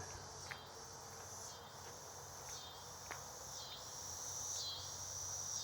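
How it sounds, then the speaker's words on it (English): Steady high-pitched insect buzzing drones continuously, with occasional soft chirps and clicks over a low background rumble. "cicadas."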